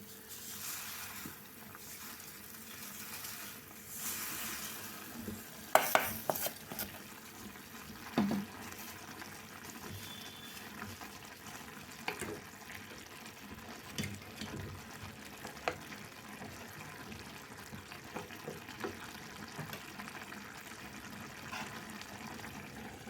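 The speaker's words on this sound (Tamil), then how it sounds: "தண்ணி நல்லா கொதிச்சிச்சு இப்போ சேமியா வந்து கொஞ்சம் கொஞ்சமாக போட்டு கிளறிடலாம்" Vermicelli is added bit by bit to boiling water in a pan and stirred for a vegetable semiya lunch-box dish. Bubbling and simmering sounds run throughout, with occasional spoon scrapes and clinks against the pan.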